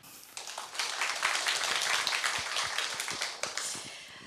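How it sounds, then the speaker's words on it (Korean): An audience at a book talk applauds as a guest author is welcomed. The clapping is sustained and moderately loud, and a few sharper individual claps stand out. "큰 박수로 맞아주시기 바랍니다"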